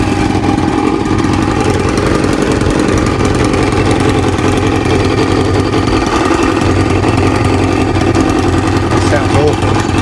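A Kawasaki ZL600 Eliminator motorcycle engine idles with refurbished carburetors, a loud, steady and slightly rough rumble that runs continuously and close by throughout.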